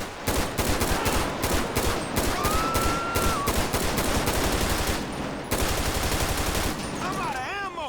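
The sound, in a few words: carbine rifle gunfire in video game GTA V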